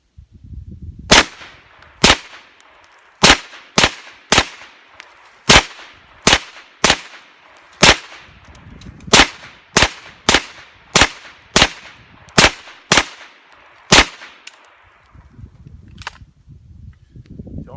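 Sharp gunshots from a Kel-Tec Sub2000 ring out at a steady, quick pace, about fourteen loud reports in a row, each followed by a brief metallic ring from steel targets at an outdoor range.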